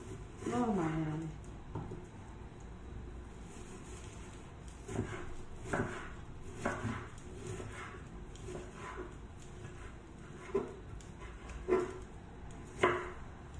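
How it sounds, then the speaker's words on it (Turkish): Scattered knife chops on a cutting board while dicing food for tacos, irregular and fairly soft, with quiet kitchen noise between strikes. "Küçük küçük doğramaya çalışacağım."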